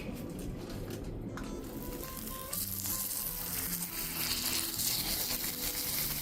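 Veggie burgers cook in grapeseed oil in a cast iron pan with a steady, close sizzle that swells louder partway through, alongside some soft clatter and background noise.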